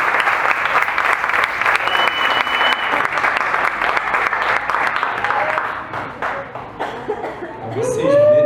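A church congregation claps loudly and continuously, with scattered laughter and voices mixed in, the clapping thinning toward the end as people talk.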